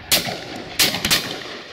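Shotgun blasts ring out at a pheasant and partridge shoot, two loud sharp reports about a second apart, each trailing off into an echoing tail outdoors, with no talking.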